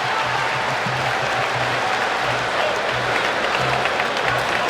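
A large crowd applauds steadily in an arena in Abu Dhabi after a UFC fight between Khamzat Chimaev and Kamaru Usman that went the distance, a dense sustained wash of clapping and cheering with no pause.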